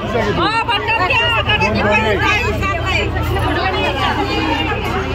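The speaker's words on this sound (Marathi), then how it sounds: "बापरे लय गर्दी आहे." A large crowd mills around at a temple visit, with dense overlapping chatter and voices close by, a constant loud babble with no single voice standing out.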